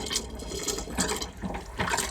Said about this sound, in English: and you will introduce a little bit of water.